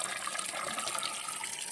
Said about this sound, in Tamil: இதுதான் மலையிலேருந்து வரக்கூடிய தண்ணி